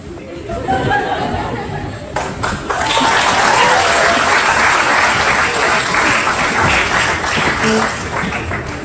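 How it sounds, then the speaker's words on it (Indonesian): Studio audience applauding on an Indonesian TV talk show, a dense steady wash of clapping that swells after a couple of seconds and holds loud throughout, with scattered chatter and laughter mixed in. "Udah nggak usah tepuk tangan"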